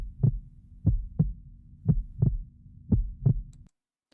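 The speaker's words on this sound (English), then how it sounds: "that is the familiar sound of a mouse's heart beating furiously, wildly, madly" Rapid heartbeat sound effect for a frightened mouse, a steady series of seven soft, thumping pulses at close range, alone with no talk, ending abruptly.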